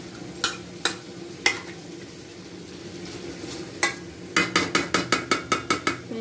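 Food braising in a little water in a pan while a spoon stirs it, giving sharp clinks and scrapes against the pan: a few scattered hits, then a quick regular run of about nine, over a faint low sizzle with no voices.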